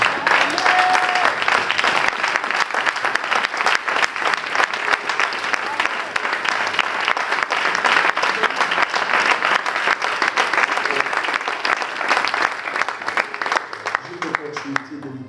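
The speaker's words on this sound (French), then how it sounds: "est-ce que vous pouvez acclamer le Seigneur pour cet homme de Dieu?" A church congregation in Paris applauds in a dense, sustained roar of clapping that holds steady for the whole stretch, with a voice speaking over it.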